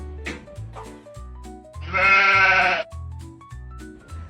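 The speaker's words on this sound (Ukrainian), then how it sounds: "Правильно, це вівця." One clear, wavering sheep bleat lasting about a second, set against light plucky background music.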